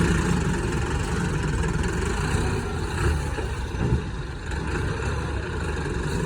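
A tractor engine runs steadily at idle while straw is loaded into a large trolley in a village, a continuous low rumble with no break and no talk over it.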